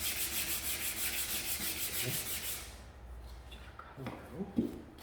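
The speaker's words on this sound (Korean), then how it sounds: "모든 나무는 결과향으로 이렇게 사포질을 해주는 거예요" Wood is sanded with sandpaper along the grain in steady back-and-forth rasping strokes, close and rhythmic, stopping about halfway before quieter handling noises and light movement.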